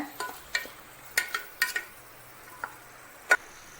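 Intermittent scrapes and light clinks of a spoon stirring barnyard millet (kuthiraivali) khichdi with vegetables and curry leaves in a pan, a handful of soft, irregular strokes close by with no talking.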